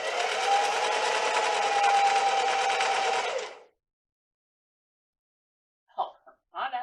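A sewing machine stitches in one steady, continuous run for about three and a half seconds, then stops. After a silent pause, brief snatches of a voice follow.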